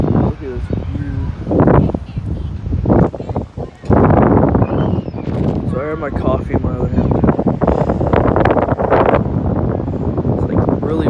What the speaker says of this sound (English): It's like really windy out here.